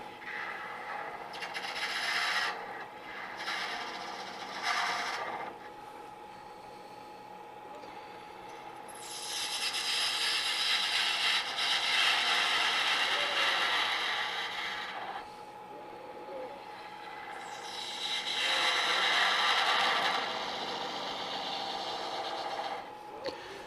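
Woodworking tools being sharpened on a grinder, with bursts of rasping, scraping abrasion against steel that swell for several seconds at a time, alternating with quieter stretches and faint workshop background.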